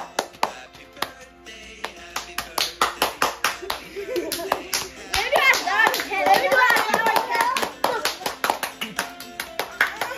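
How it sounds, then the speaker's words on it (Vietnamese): Guests at a child's birthday party clap their hands, starting with scattered claps and building into sustained group applause, while voices cheer and chatter over it. "Vỗ tay."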